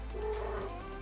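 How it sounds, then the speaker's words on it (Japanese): A male Munchkin cat gives a single drawn-out meow indoors, brief and fairly close, with no talk over it. "ちょっと猫が鳴いてます。"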